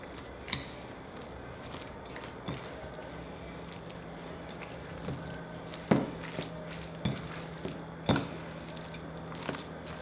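Pulled pork being stirred with BBQ sauce in a pot, giving soft wet squishing and scattered clinks of a utensil against the pot, quiet and irregular over about ten seconds.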